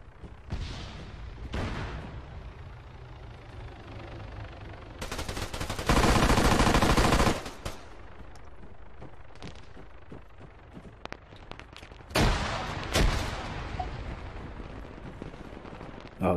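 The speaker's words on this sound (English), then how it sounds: "I can hear some gunfire" Gunfire in the military shooter game Arma 3, during a King of the Hill match: repeated bursts and single shots, with loud dense bursts of automatic fire and booming blasts standing out over steady battlefield noise.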